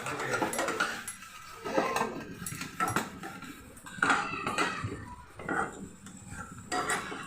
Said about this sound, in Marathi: बघा असं छान मस्त भाजून घ्यायचं तसं दाणेदार छान दिसतं बघा